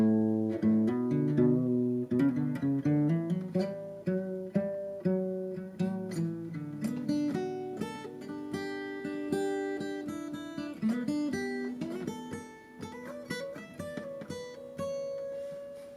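An electric guitar plays the solo from a song at a moderate pace, a run of clearly picked single notes and bends, close and alone with no voice.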